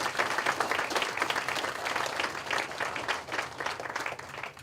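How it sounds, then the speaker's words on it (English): A crowd at a celebration-of-life memorial gives a sustained round of applause, dense steady clapping lasting several seconds without pause. "I want everybody give Ghost and the entire Leatherneck team a round of applause."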